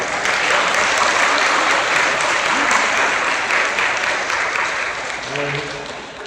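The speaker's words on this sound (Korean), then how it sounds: "박수 한번 쳐주세요." Sustained, dense applause for a newly formed church worship team, filling the room at steady loudness for several seconds and tapering slightly near the end.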